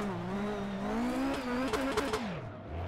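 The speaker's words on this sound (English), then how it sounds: "rFactor 2 drifting this S15" Nissan S15 drifting in rFactor 2, engine droning and revving with wavering pitch while tires squeal, a few sharp rev spikes near the end before the engine drops back, close and loud.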